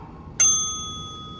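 One sharp bicycle bell ding rings out clearly and fades over about a second against a quiet background hum.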